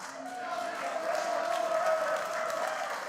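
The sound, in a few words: crowd cheering at a wrestling match in Richmond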